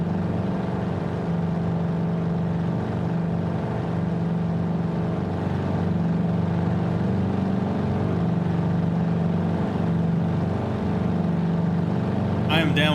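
Steady droning airplane engine from Microsoft Flight Simulator 2020, a constant mid-loud hum with a sustained tonal whine running unbroken throughout, with no talk over it.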